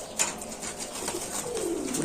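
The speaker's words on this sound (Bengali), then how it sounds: "একটা কবুতর ধরে দেখেন তো ভাই একদম এক মোট কবুতর দেখেন দর্শক" Pigeons at a busy pigeon market give soft, low cooing under a steady crowd murmur, with a few calls rising more clearly near the end.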